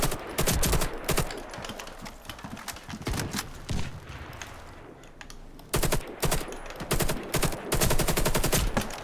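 Kalashnikov rifle fire in the online shooter Warface rattles out in rapid automatic bursts, loud and close, broken by short pauses and a quieter stretch midway before heavy firing resumes.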